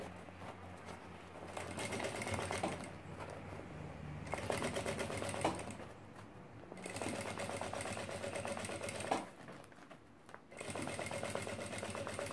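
Sewing machine backstitching fabric, fast mechanical whirring in bursts separated by short pauses, close and steady, with no talking over it.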